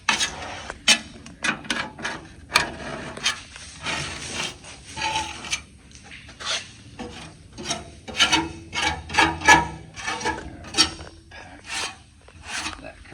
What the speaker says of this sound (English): Just doing a little bit of cleanup here. It's easier to do a quick scrape than it is sand it off.